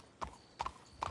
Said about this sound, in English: My horse doesn't want to go through the fence.